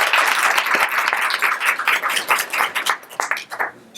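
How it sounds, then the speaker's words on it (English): A university audience at a COM Week event gives the organizers a loud round of applause. The dense clapping is close and strong, then thins into scattered claps by the end. "So let's give them a round of applause."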